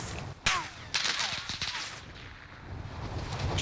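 Gunfire in the video game Warzone on the Caldera map, a sharp loud shot followed by a second burst of rapid cracks, then a lingering noisy wash with light wind-like rumble, no talking.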